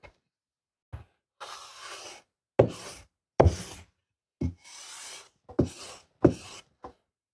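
An axe blade is drawn across a sharpening stone in about eight separate passes, each a short, close, gritty scrape with quiet gaps between them.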